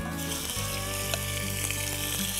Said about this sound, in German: Dazu geben wir in unseren Topf ein ganz klein wenig Öl hinein. Und in dem Öl schwitzen wir zuallererst unser Rindfleisch an.